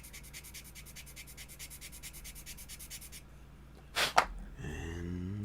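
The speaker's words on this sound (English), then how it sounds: "bring in our little sanding block here." A small sanding block rubs back and forth over plastic in a quick, even run of faint scratchy strokes, followed by a couple of louder scrapes and handling sounds.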